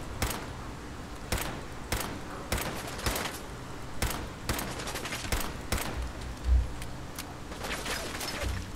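Repeated pistol shots in Fallout 4, a combat firefight with sharp, loud cracks firing in irregular bursts across the span, one heavier thump near the end and faint mechanical clicks between shots.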